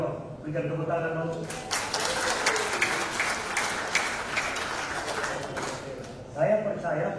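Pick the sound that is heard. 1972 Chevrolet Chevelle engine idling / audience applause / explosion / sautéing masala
audience applause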